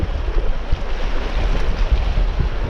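Strong wind buffets the microphone in a loud, continuous roar while lure fishing for bass from the shore, with waves and water noise underneath.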